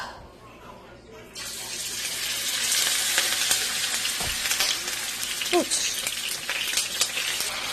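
Mutton pieces dropped into hot oil burst into a loud, steady sizzle that fills the pan, with a few clinks and stirring scrapes on top and faint background room noise.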